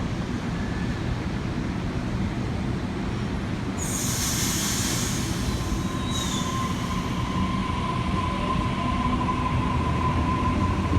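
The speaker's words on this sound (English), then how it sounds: "A44 is now departing on platform number 3" Sydney train A44 departing platform 3 at Parramatta, a steady rumbling roll with a high squeal from the wheels partway through and a thin whine lingering as it moves off.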